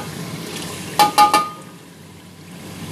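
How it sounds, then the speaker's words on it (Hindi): Yogurt goes into a pan of Punjabi-style chicken chana curry masala, giving a short cluster of three wet plops and splashes over a quiet background sizzle that fades afterward. "अब इसके अंदर मैं दही ऐड कर दूँगी।"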